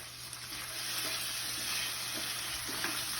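Frozen corn sizzles and crackles continuously in a hot pan while being stirred, a steady close frying hiss with occasional scraping stir sounds and no talking.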